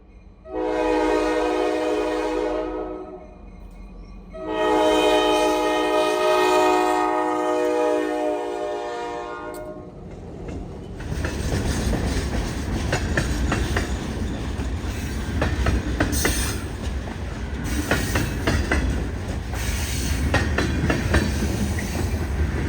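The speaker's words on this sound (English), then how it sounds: "this video here showing you a train rolling by on this track that I'm modeling" A model train on a layout, pulled by green and yellow Katy locomotives, rolls by on its track. Two long horn blasts come first, then continuous rumbling and clattering wheels up close.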